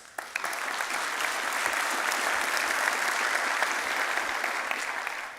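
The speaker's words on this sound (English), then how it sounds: "Can you please give them a big round of applause?" Conference audience applauding the program committee and program chairs at a fintech open-source event opening, steady dense clapping from a large crowd that holds constant throughout.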